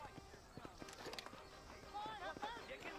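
Horse hooves clip-clopping in the Red Dead Redemption video game, a steady rhythm of fairly close hoofbeats mixed with game sounds while a person talks over them.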